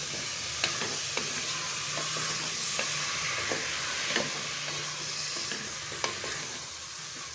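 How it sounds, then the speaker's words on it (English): Green peas and potatoes stirred into curry masala in a hot pan: constant sizzling hiss with repeated light spoon scrapes and clicks at an uneven pace, close and without any talk. "I'm putting that also in. Stir that also very well."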